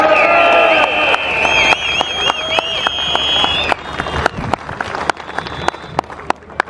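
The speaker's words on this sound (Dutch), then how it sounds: "laten we ze een daverend applaus geven" A crowd at a union rally for construction workers gives loud, close applause and cheering, with shrill whistles and horn blasts over dense clapping that thins into scattered claps.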